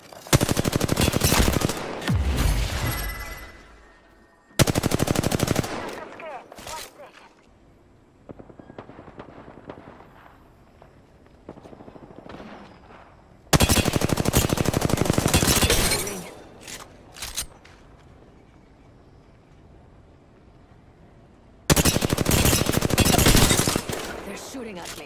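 Bursts of automatic gunfire in Apex Legends, several loud sustained volleys separated by quieter stretches of game sounds.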